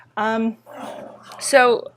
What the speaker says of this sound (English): I apologize for the dogs if you can hear them in the background.